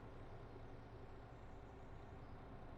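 Road traffic in Farming Simulator 2022, with trucks, buses and cars on the roads beside farm fields, forming a steady, dense engine rumble and low hum that stays constant and fairly faint throughout.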